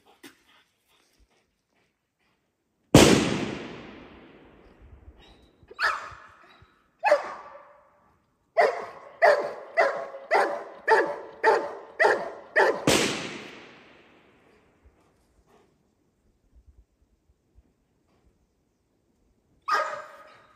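Dogs bark in a sharp burst and then a quick series of about eight loud barks, close and echoing in open quiet during a dog temperament test, with a single bark again near the end.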